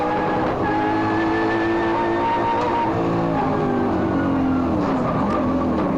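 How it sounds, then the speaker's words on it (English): A race car engine at the 1992 Nissan Mobil 500 street race in Wellington revs hard and steady, pitch climbing through the gears, loud and continuous throughout. "Listen to the engine work, they sound fantastic, these things."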